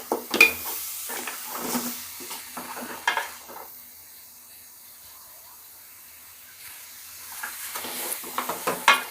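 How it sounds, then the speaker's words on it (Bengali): Spice masala frying in a little oil for beef trotter nehari, close sizzling with scraping stirs in bursts, easing to a low hiss midway before stirring picks up again. "এটাকে আমি এখন ভালোভাবে ভেজে নেব।"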